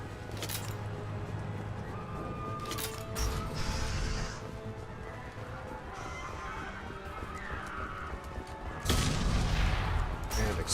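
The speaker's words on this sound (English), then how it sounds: "And explosions." Booming explosions and mechanical clatter from the sci-fi shooter video game Mass Effect, with broadband blasts near the start and a louder, heavier burst late in the combat sequence, dense and continuous throughout.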